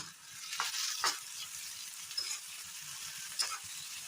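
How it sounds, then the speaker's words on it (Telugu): Onions fry with salt in a pan, a soft close sizzle with crackling bursts and occasional stirring scrapes, quiet overall, with no one speaking. "ఆనియన్స్ త్వరగా వేగడానికి కొద్దిగంతా ఉప్పు వేసుకొని వేయించుకోవాలి."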